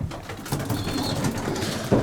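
Racing pigeons coo softly and continuously while pecking at food on the ground nearby, with a steady low murmur of calls and no talk.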